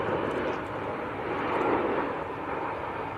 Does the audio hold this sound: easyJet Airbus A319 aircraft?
yes